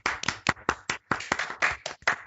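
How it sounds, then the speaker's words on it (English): A few people clapping on a gaming quiz show, close, sharp, uneven hand claps in short bursts with small gaps, no talking over them. "Round of applause for Mr."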